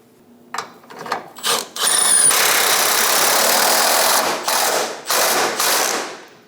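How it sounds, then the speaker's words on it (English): A bolt being threaded into a fuel tank strap on a 2003-2025 Chevrolet Express 2500 van, heard as a series of short ratcheting and clicking bursts with one long steady whirring stretch in the middle, close and fairly loud, with no talk. "Get the bolt started by hand."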